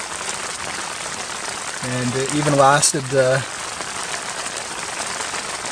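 Steady rain patters across a mountain campsite, a constant wash of drops under a voice speaking in the middle of the clip.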